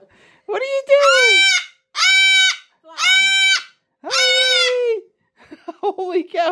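A pet cockatoo lets out four loud, drawn-out screeching squawks in quick succession at close range, with short pauses between them, before a person starts talking.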